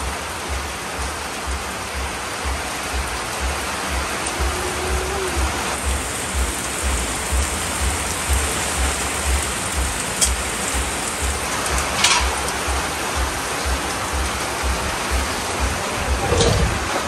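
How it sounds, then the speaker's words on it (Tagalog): Heavy rain pours down in a dense, steady hiss, with a few brief knocks and faint sounds poking through the downpour. "Ang lakas sa ulan!"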